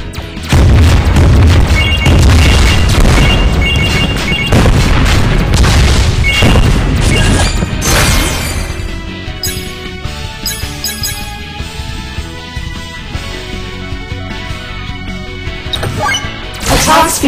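A burning missile weapon fires in a mobile plane shooter game, with heavy booms and crashing impacts over dense layered game music, then a thinner stretch of sparse bleeps and effects.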